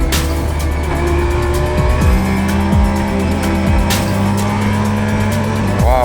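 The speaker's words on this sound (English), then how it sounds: "It's really a joy and a pleasure to watch the onboard when he's driving a fast lap here." Onboard sound of a race car lapping quickly at Le Mans-style endurance racing, the engine note loud and constant with rapid upshifts and sharp drops on downshifts, tires briefly squealing, no talking.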